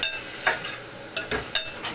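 Tomato pieces cooking in a spring onion egg curry pan, a soft sizzle broken by several quick stirring scrapes of a spoon against the pan, close and fairly quiet, no talking.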